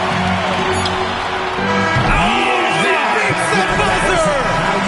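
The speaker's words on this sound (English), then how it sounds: "Listen to this crowd right now." Basketball arena crowd roaring and cheering during a pro game at the end of a quarter, a loud continuous wash of noise with scattered whistles and shouts, under no clear talk.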